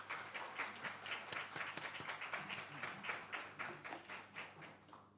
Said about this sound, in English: Please give her a nice round of applause as she comes.